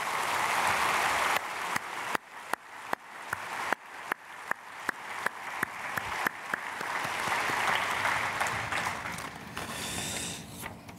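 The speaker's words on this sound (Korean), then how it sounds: "우리 크게 박수로 환영하겠습니다." A church congregation at Sunday worship claps to welcome newly registered members: a brief burst of applause, then a run of single, evenly spaced sharp claps like a led rhythm, swelling back into general clapping before dying down.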